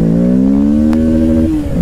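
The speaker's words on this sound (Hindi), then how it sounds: "फर्स्ट गियर पे ले आए हैं बाइक को" A Kawasaki Ninja 650 accelerates hard in first gear, its engine note climbing steadily in pitch for over a second, loud and close, then easing off at the end.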